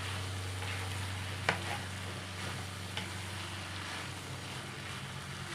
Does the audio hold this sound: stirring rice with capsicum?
yes